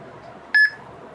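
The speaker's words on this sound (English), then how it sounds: "Once you hear the beep, you can remove the fingers." A fingerprint scanner gives one short, clear electronic beep after capturing fingers, standing out against a quiet room hum.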